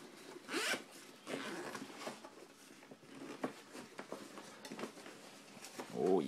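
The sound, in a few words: zippers on drill carrying bag being opened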